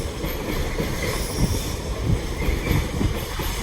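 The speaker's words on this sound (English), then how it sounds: "Another Thamslink gonna pass." A Thameslink Class 700 train passing at Harringay, a steady loud rumble of wheels on rail with rhythmic clatter throughout.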